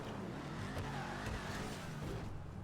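Emperor Vectre car with its wheels lowered, driven in GTA 5 Online, giving a dense, steady engine roar with broad noise and a few brief bumps, loud and close throughout.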